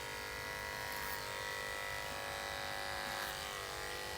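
A hair clipper fitted with a 1 guard cuts hair for an asymmetric bob, giving a steady, close electric buzz that holds without pause, with no talk.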